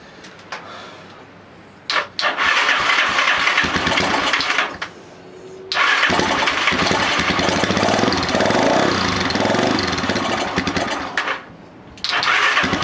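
A Lifan Earth Dragon 125 motorcycle is cranked in short bursts, then catches and runs loudly with a rough, buzzing idle before cutting out and firing up again near the end.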